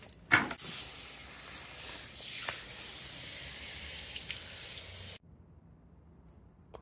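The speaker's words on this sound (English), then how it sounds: "So back home, water all the chili plants." Water streams from a hose or can onto chili plants at home, a soft steady hiss for about five seconds before cutting off to near silence.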